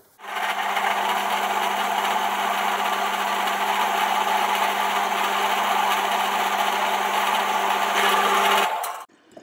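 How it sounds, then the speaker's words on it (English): A drill boring an 8 mm hole through a metal bar held in a vice, a steady continuous whine with a tonal hum that runs loud and unbroken for about eight seconds before stopping abruptly. "Just drilling out 8 millimetre."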